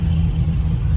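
A Nissan 350Z engine, a junkyard car that has sat for five years, revving with a loud, close, steady low rumble for a brief moment.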